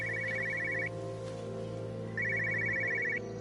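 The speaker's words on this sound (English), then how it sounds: "Wait, I'm hearing a phone?" Cell phone in the Everybody's Gone to Rapture video game ringing in two rapid trilling bursts separated by a pause, over a low steady background hum.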